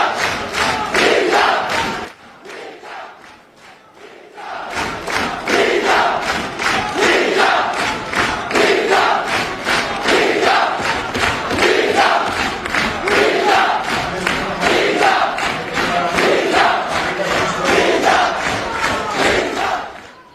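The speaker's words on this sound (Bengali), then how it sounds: "সেই ফলাফলের দিনেই উঠলো হিজাব হিজাব স্লোগান" A large crowd at Dhaka University chants a two-word slogan in loud, rhythmic unison, repeating it steadily after a brief lull near the start.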